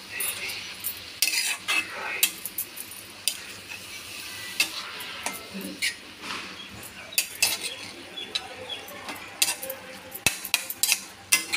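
Vegetable curry is stirred and sautéed in a pan, with a soft continuous sizzle under frequent scraping and clinking of a spoon against the metal, irregular and close by.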